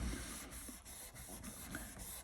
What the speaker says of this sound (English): just rub over the surface, and it just takes the shine off